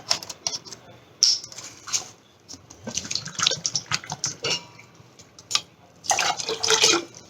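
Water is poured from a glass into a pot while making spongy Bengali rasgulla, splashing and trickling in uneven bursts with clinks, close and fairly loud, with some talk over it.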